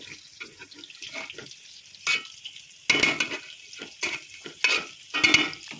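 A spoon stirs pepper pulao rice in a pot, making intermittent scraping and sizzling strokes, soft at first and then louder and more frequent, heard close up with no talking.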